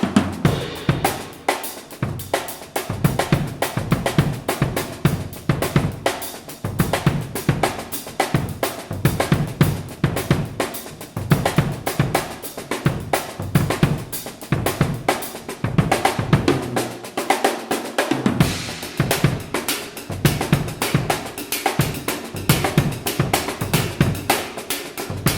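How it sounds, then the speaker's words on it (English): Funky drum kit solo played alone, dense rapid hits across kick, snare and cymbals with a steady syncopated groove, loud and close throughout with brief gaps between busy fills. "This is like a funky time solo."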